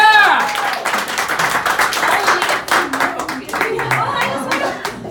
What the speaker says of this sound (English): Can you give a round of applause if you know Megan?